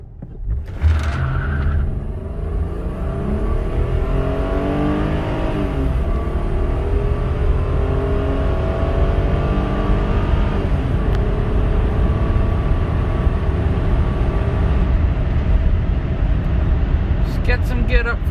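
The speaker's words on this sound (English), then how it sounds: "It's the first time I've ever done a 0 to 60 in this thing." A 1998 Honda Accord with a 3.0 V6 accelerating hard from 0 to 60, engine note rising through the gears with audible shift dips, loud cabin rumble continuing steadily throughout, with a brief clatter at the start and end.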